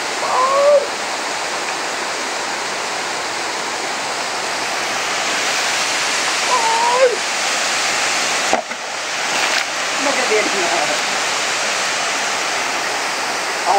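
Dadfa waterfall in Surat Thani roars as a steady, dense rush of falling water, loud and constant throughout, with a few faint bird chirps over it and a brief dip near the end.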